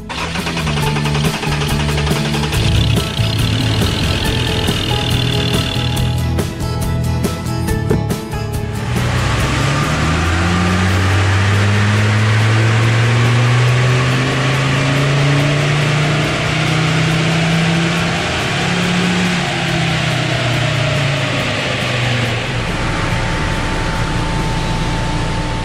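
A Ford Ranger engine with new high-flow fuel injectors and a custom dyno tune turns over, catches and revs, its pitch climbing and settling into a loud steady drone amid a hissing background.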